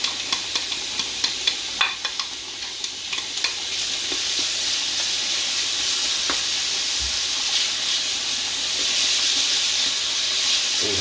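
Peppers sizzle with garlic and onion in a hot frying pan, a continuous loud hiss heard close up, with quick clicks and scrapes of stirring near the start.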